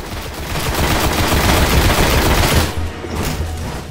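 Dense, sustained gunfire in the Destiny shooter, loud and continuous with a sharp rattling texture for most of the stretch, then easing into a quieter tail near the end.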